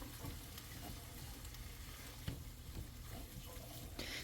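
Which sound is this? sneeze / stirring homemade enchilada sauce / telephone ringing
stirring homemade enchilada sauce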